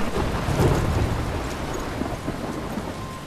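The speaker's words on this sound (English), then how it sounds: "We get hit by lightning." A thunderstorm in the video game Life Is Strange, with heavy steady rain and a low rolling rumble of thunder that swells early and then fades, loud and continuous throughout.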